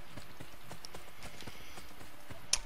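Horse hooves clip-clop in a steady, even rhythm in the video game Assassin's Creed Brotherhood, moderately close over a faint ambient background, ending with a brief sharp sound.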